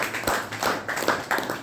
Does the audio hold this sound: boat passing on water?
no